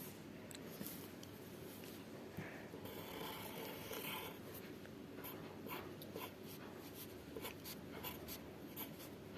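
A pen draws a big square on paper with close, continuous scratching strokes broken by brief pauses as it changes direction.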